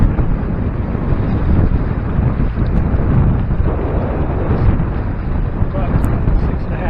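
Strong wind roars across the microphone aboard a trimaran sailing on Lake Erie, a continuous loud rushing blast throughout, with talking underneath.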